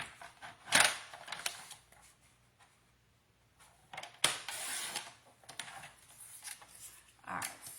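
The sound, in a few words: cutting off the branding strip of a card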